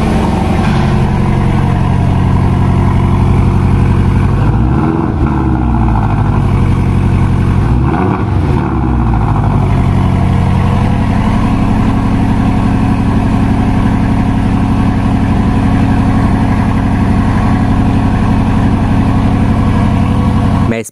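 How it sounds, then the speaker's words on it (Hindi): A Porsche 718 Boxster idling, its exhaust giving a loud, steady low burble up close, with a couple of small blips that swell and settle back to a smooth idle. "आइए अब मैं आपको इसका एग्जॉस्ट नोट सुनाता हूँ"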